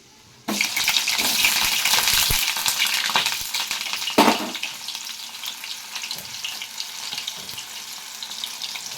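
Onions drop into hot oil in a pan with a sudden loud sizzle, then keep frying in a steady crackling hiss that flares once more partway through before settling at a lower level.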